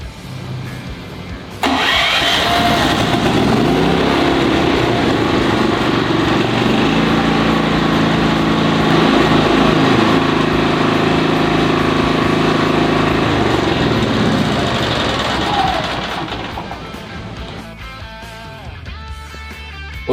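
A Toho inverter generator starts abruptly and runs at a loud, steady drone for about fifteen seconds, then winds down and stops, close up with no talking.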